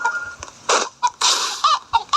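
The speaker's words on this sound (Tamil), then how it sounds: "கோழி இங்கே ஒரு கோழி இருக்குது." Chicken clucking inside a Roblox survival game, a run of short, close, bright clucks and squawks in irregular bursts with brief gaps between them, no talking over it.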